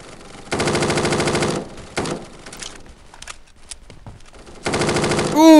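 Loud rapid automatic gunfire in the mobile shooter Standoff 2, two long bursts with scattered single shots and clatter between them, ending in a rising electronic tone.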